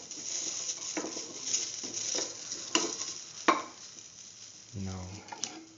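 Onions sautéing in a pan for a scrambled egg ash gourd stew, a soft steady sizzle with occasional spoon scrapes and clinks against the pan, and a low voice murmuring briefly near the end.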